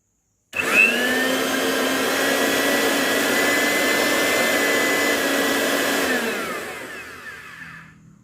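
An electric grinder or blender motor whirs loudly and steadily for several seconds after switching on, then winds down and fades toward the end, with no talking.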